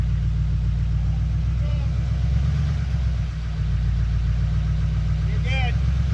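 A truck engine idles steadily with a deep, continuous low rumble while it pulls a floating boat lift, and brief voices and faint squeaks are heard over the engine.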